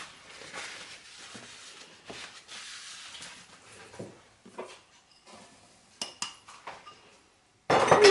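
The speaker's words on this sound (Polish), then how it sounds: "a do pozostałej części dołożę słonecznik i wymieszam" Cookie dough with sunflower seeds stirred by hand in a bowl, with a series of soft scraping swishes and light clinks of a spoon against the dish, then a brief louder clatter at the end.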